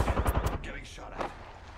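Video game gunfire crackles in a rapid burst of several close shots at the start, then fades into quieter game noise and a faint whoosh.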